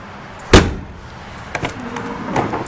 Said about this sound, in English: Drop down doors.